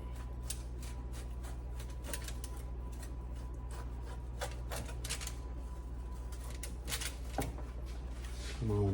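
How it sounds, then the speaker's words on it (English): A chicken-crust spinach and mushroom pizza is cut down the middle, giving a run of crisp, scratchy scraping strokes close up over a low background hum. "we're gonna go ahead and cut it. Just cut it right down the middle."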